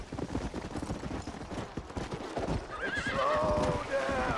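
In Red Dead Redemption, a horse gallops with rapid hoofbeats, then lets out a loud, wavering neigh near the end, close by over outdoor game ambience.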